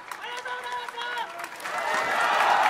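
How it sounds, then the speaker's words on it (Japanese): Spectators in the stands applaud at a Kansai collegiate American football game between Kindai and Kobe universities, a broad patter of clapping that swells and grows louder toward the end while a commentator talks over it. "スタンドからは大きな拍手が選手たちに送られています"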